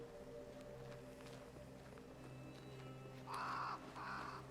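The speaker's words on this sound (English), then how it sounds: "The crows. Ravens?" Crows in the game Banishers: Ghosts of New Eden give two loud, harsh caws in quick succession near the end, rising over a quiet ambient game background with a low steady hum.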